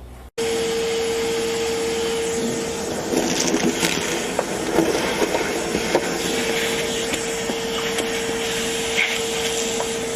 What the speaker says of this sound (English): we want to vacuum this thing out real good without sucking up any of our bolts.